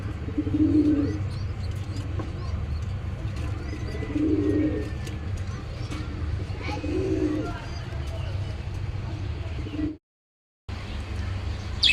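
Pigeons kept in a small balcony loft at home coo softly three times at spaced intervals, close by, over a low steady background hum with a short dropout near the end.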